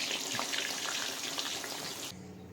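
Slices of home-grown banana deep-fry in oil for banana chips, making a steady, close bubbling sizzle that runs for about two seconds and then cuts off abruptly.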